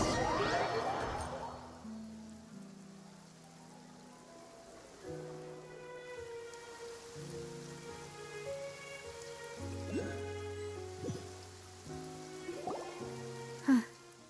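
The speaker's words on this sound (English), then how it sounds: "It's been raining non-stop for a few days now." Rain falling in Genshin Impact, Fontaine area, a soft steady patter in the background under a gentle melodic game score, with a brief louder hit near the end.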